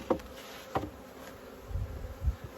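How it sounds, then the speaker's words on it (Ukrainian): A swarm of honeybees buzzing steadily at close range, a continuous hum with a few soft knocks and thumps, no voices. "Не знаю, що ми будемо робити з цим роєм."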